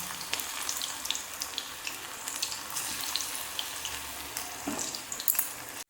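Spring onion pakoras fry in hot oil with a busy, crackling sizzle that stays close and steady, broken by brief clinks and scrapes as they are stirred, with no talking.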